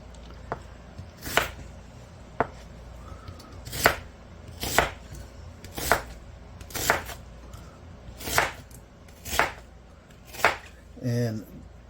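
A large yellow sweet onion is chopped with a knife on a cutting board, about a dozen sharp, evenly spaced thuds spread through the clip, close and crisp against a quiet kitchen background.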